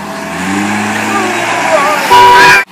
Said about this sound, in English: truck number 2 again moves away at a speed of 15 miles an hour